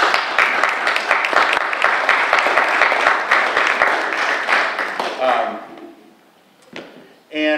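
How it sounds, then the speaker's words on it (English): Audience applause for a speaker at a public library presentation, dense clapping for about five seconds that fades out, followed by a couple of brief knocks. "give this guy a round of applause"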